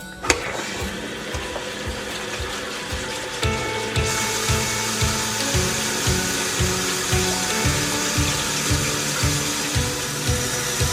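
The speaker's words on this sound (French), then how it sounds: "Remplir le bac d'eau froide avec le doseur." Cold water runs from an automatic dosing dispenser into a washing tub, a steady rushing flow under a rhythmic pulsing mechanical thump that repeats about every half second, with a brief click at the start.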